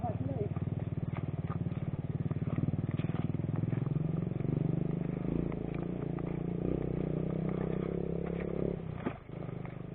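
A scrambler-type motorcycle engine revs outdoors with a sustained buzzing drone that rises and falls, while people talk over it before it drops away near the end.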